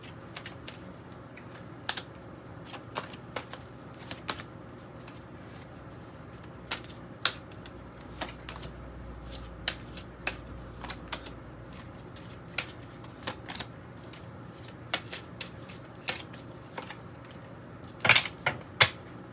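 A deck of Golden Art Nouveau Tarot cards is shuffled and flipped, giving a steady run of soft, close papery riffles and sharp card snaps scattered throughout, with a denser burst of flicks near the end and no talking.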